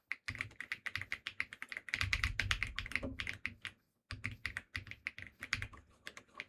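Rapid, crisp keystrokes on a computer keyboard clatter nearby in fast runs, broken by one brief pause before the typing resumes at a steady clip.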